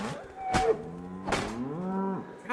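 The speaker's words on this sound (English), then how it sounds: "We're just leaving a bunch of bloody cows out here." Cows in the video game Kingdom Come Deliverance 2 moo several times in sequence, long drawn-out lowing calls that are close and clear, with no talk.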